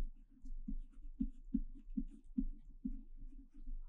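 Chalk or marker writing on a board during an 11th-grade physics lesson, giving a run of short, rhythmic strokes and taps close by.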